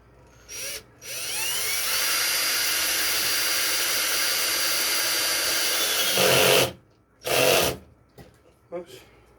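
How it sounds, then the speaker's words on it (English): A power drill driving into wood on a doghouse restoration whines steadily for about five seconds, loud and close, then stops abruptly, followed by brief bumps and handling noises. "And then I now take my drill."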